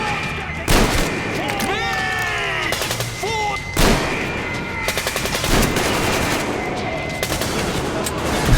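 Gunfire in the Metro Exodus video game, with sharp repeated shots in loud bursts and rapid volleys over a rumbling battle bed, plus tonal in-game calls in between.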